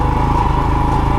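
Royal Enfield Himalayan motorcycle running steadily along a lane with a loud, continuous engine drone and a low, even hum that never lets up, with no talking.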